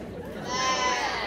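A performer at a school Christmas play imitates a sheep's bleat, a drawn-out wavering vocal call that swells and holds steady over about a second, loud and close on stage.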